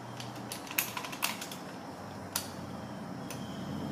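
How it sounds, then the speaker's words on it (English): Petzl belay device clutch clicking over into its locked position on a rope, giving a few faint, sharp mechanical clicks spaced apart with quiet in between. "Now watch this clutch, if you will. See it click over?"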